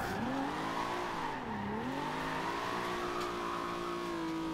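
A Nissan 300ZX drifting in Forza Horizon 2, its engine droning with a wavering pitch as the tires squeal continuously through the slide, steady and close throughout.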